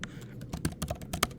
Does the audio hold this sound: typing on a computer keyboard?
yes